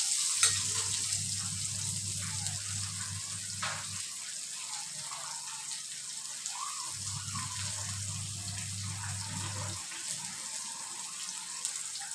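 Drumstick thoran sautéing in a pan after mustard seeds are popped, a soft continuous sizzle with faint crackles and a low hum that comes and goes.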